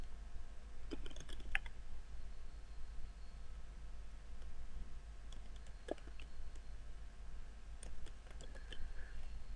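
Typing on a computer keyboard while designing a flyer in Photoshop: scattered small clusters of faint, close key clicks over a steady low hum, with no talking.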